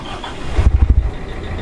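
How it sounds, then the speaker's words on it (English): The engine of an Elan Impression 50 sailing yacht starts. A brief, loud chugging of a few cranking pulses rises out of quiet wind noise, and a low idle follows. "Then push start for two seconds until the engine excites."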